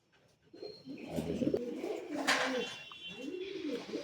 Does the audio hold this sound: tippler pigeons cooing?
yes